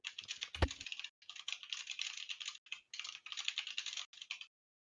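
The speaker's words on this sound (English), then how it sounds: "I can hear his keyboard" Rapid computer keyboard typing over a voice chat line, a steady run of close, crisp key clicks in bursts with short pauses and one louder thump near the start, then stopping.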